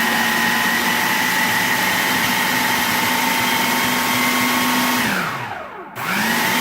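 An electric mixer blends sweet potato pie filling with a loud, steady motor whine that holds level and then spins down and briefly dips before starting up again, with no talk.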